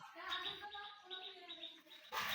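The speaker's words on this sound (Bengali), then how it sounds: "এ দুটো আমার গুল্লা কবুতর," Two Gulla pigeons give low, gurgling coos in a short rolling sequence nearby, with a voice present in the background.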